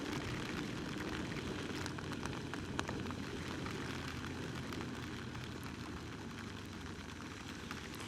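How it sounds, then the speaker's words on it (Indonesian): Toyota Innova petrol engine climbing a mountain road in low gear, a steady, loud broadband drone that runs through the whole clip with no talk over it. "Suara Innova bensinnya kedengeran banget."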